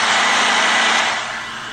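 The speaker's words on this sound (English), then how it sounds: "I think he revs it here, Ryan." A loud, high-revving car engine roars steadily, then eases off slightly toward the end.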